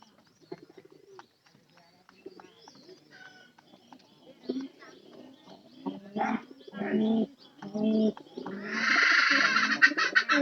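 Pigeons cooing softly in a loft, with scattered calls, wing shuffles and chirps, building to a louder, busier stretch of cooing and fluttering near the end.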